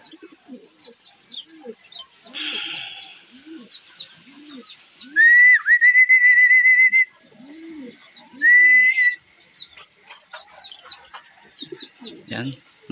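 Racing pigeons, checkered, brown and red bar birds, coo in repeated soft low bursts close by after toss training, with other birds chirping and whistling in short high calls and a couple of long bright whistles.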